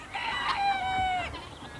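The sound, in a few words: chickens clucking while being fed bread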